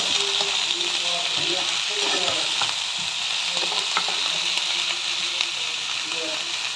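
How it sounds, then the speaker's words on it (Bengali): Okra, capsicum, onion, potato and cauliflower fry together in a pan, giving a steady, close sizzle throughout with scattered clinks and scrapes from stirring, and a few faint voice-like tones underneath. "ভেন্ডি ক্যাপসিকাম পেঁয়াজ আলু কপি এগুলো সব ভেজে নেব"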